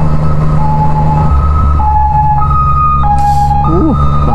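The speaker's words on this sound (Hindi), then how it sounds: "सो भाई एम्बुलेंस को जाने दे." An ambulance siren wails loudly through a night street in Phuket, its pitch stepping up and down in a repeating pattern over steady traffic and engine rumble, heard from close by.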